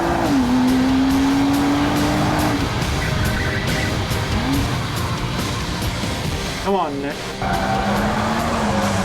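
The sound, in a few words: race car engine in Gran Turismo video game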